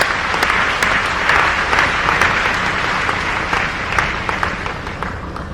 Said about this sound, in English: let's give a round of applause to the man who made all of this happen, Mr. CEO, Juwan Holmes